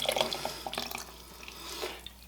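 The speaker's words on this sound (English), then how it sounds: "We're just going to go ahead and pour that in to our dry mixture." A wet mixture of water, vegetable oil, milk and yogurt poured into a bowl of dry ingredients, a close, steady liquid trickle with light splashing, ending in a brief knock.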